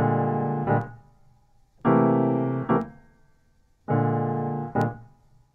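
Three left-hand piano 13th chord voicings that include the root, played in jazz comping style: each chord is held for under a second, then followed by a short, sharp accent, and the pattern repeats evenly, close and clear.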